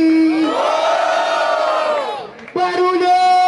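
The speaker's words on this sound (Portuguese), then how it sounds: "Barulho quem gostou das rimas de Rabi." A crowd at a street rap battle (Batalha da Leste) roars and shouts together in a loud sustained chant, dips briefly, then surges back.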